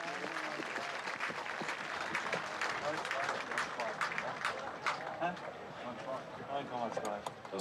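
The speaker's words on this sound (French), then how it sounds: "On les applaudit bien fort." An audience claps loudly and steadily after a horse riding performance in an equestrian competition, a dense close wash of applause that holds without a break.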